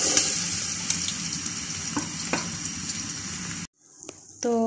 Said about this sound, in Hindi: अब इसमें मैं ऑयल डालूँगी और इसमें अब प्याज डाल के प्याज को डार्क ब्राउन करेंगे।